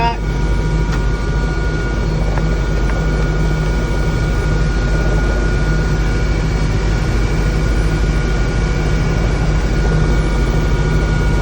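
A Bell 407 helicopter's turbine engine runs up in throttle from the ground, a steady loud whine over a low rumble, constant and close throughout.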